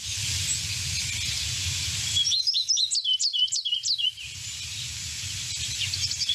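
A goldfinch sings a rapid burst of twittering, peeping notes for about two seconds in spring, fairly close and clear over a steady background hiss.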